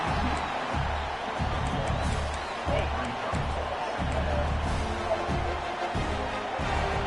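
A packed stadium crowd at a USC vs UCLA college football game roars continuously and loudly, a dense wall of cheering and noise with the home defense holding the opponent deep in their own end.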